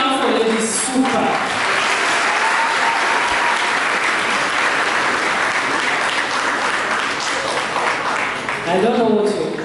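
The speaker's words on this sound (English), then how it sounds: "And we clap for Lady Super." Loud, sustained audience applause at a college peace convention in the West Nile region, a dense continuous roar of many hands with crowd noise and some talk near the start and end.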